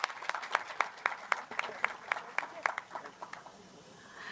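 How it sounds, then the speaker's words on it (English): Audience applause in an auditorium at an academic science day event, a crowd clapping in quick irregular bursts that thin out and fade toward the end. "give a big round of applause for the center"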